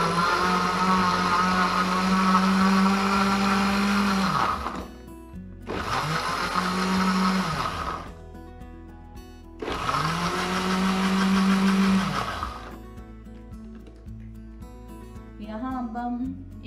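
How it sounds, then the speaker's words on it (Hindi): Watermelon is ground in an electric blender in three long whirring bursts that rise and then wind down, loud and close, separated by short pauses with clatter between them. "इसको ग्राइंड करके जब तक ये अच्छे से ब्लेंड नहीं हो जाएगा हम मिक्स करेंगे इसको"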